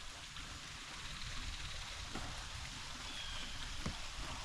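A waterfall on Lake Malone, Kentucky, heard from a kayak: a steady, even rush of falling water fills the scene at moderate distance, with no talk.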